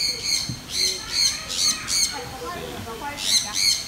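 Birds squawking at an ecological farm in Hsinchu, Taiwan, in repeated harsh, shrill calls that come in bursts of a few at a time over soft background noise.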